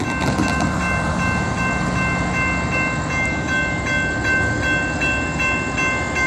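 A CSX locomotive with electric drive drones past nearby with steady high tonal whine over a rumbling, clattering train, loud and continuous.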